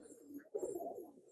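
Pigeons in a loft give a few soft, throaty coos close at hand in a quiet space, with no voices.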